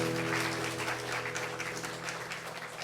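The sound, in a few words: congregation applause in church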